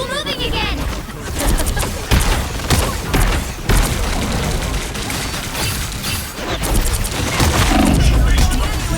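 Explosive ability detonations from Scarlet Witch in the video game Marvel Rivals: several loud booming bursts that crash through a dense, busy mix of gunfire-like effects, with a voice talking over the action.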